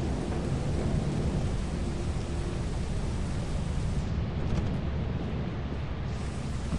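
Steady, loud thunderstorm ambience in the video game Lethal Company: a dense roar of rain and low rumble, continuous throughout with no speech.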